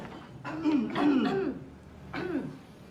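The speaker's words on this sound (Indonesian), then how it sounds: "Kalau batuk ke dokter lah." Harsh coughing and throat clearing, a couple of bursts close to the listener, with a short gap between them.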